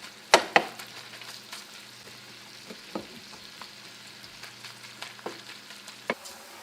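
Bacon and onions frying in a pan, a steady low sizzle running throughout with a couple of sharp clatters near the start and scattered soft clicks and pops, close by and with no voices.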